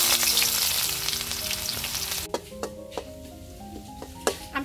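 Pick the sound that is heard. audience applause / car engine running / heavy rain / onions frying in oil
onions frying in oil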